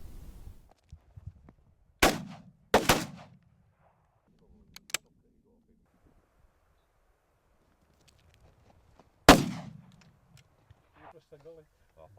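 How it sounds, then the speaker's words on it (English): Shotguns firing Ely cartridges at rabbits during ferreting in the Scottish Borders, a few sharp reports with one close double shot, heard against quiet countryside with faint movement noise between them. "The shooters are soon feeding the shotguns a rapid diet of Ely cartridges"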